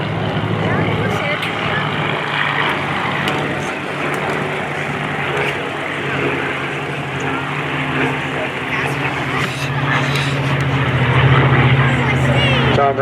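World War II fighters, an F4U Corsair and a P-40 Warhawk, flying at an air show weekend, their piston-engine drone steady and moderately distant, swelling toward the end, with an announcer talking over it throughout.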